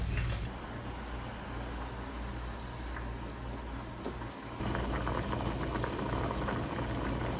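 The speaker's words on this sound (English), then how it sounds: "now we're going to let this boil with the potatoes" A pot of soup with potatoes and radish boils on the stove, making a low, steady bubbling rumble with faint ticks, close and unbroken, growing slightly louder toward the end.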